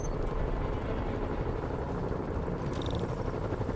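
A helicopter in the video game Marvel's Spider-Man Remastered drones steadily, its dense low rotor noise constant throughout, with a brief higher whine rising near the end.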